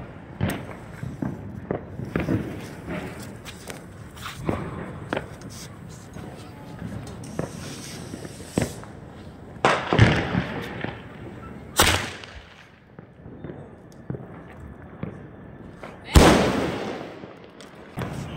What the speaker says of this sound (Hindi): स्काई शॉट चला रहे हो?